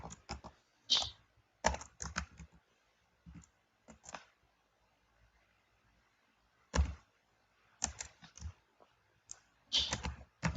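Irregular bursts of clicky key presses on a computer keyboard while coding a React Native chat app, clustered keystrokes separated by quiet pauses, close and isolated.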